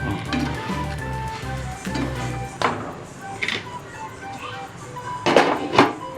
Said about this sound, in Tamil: இப்போ இதே மாதிரி கொஞ்சம் பட்டர் விட்டு ரோஸ்ட் பண்ணி எடுக்கலாம்